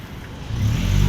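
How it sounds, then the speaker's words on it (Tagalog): A car passes on a road beside a walker, its engine swelling from a low hum into a louder, nearer rumble over about a second, with no voices. "Ayan, may sasakyan na dumaan."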